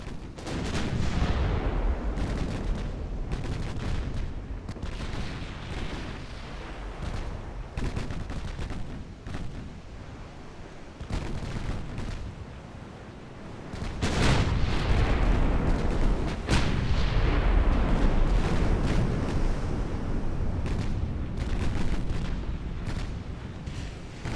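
Battleship gunfire in the naval strategy game Ultimate Admiral Dreadnoughts: a long barrage of heavy, booming shots and rumbling blasts, repeated irregularly and overlapping, swelling louder midway through.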